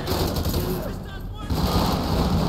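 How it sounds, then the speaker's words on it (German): Gunfire from a police hostage-rescue scenario in the video game GTA 5, heard as dense, continuous rapid shots filling the whole stretch with a brief dip in the middle, mixed with game background sound. "Oh, Schüsse sind wieder gefallen."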